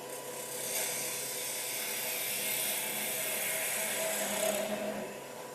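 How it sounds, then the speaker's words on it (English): A wood-turning gouge cuts across the end of a spinning workpiece on a lathe to square it off, a sustained close rasping, whirring scrape lasting several seconds with no talking. "So I'll just set the rest so the gouge should cut all the way to the middle."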